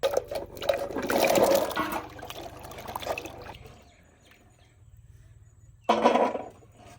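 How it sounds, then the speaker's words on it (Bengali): Jujube fruits being washed by hand in a bucket of water outdoors in a village yard, with sloshing and pouring bursts at the start and again near the end, and quieter trickling in between. "এবারে বালতির জলে ধুয়ে নেবো সুন্দর করে।"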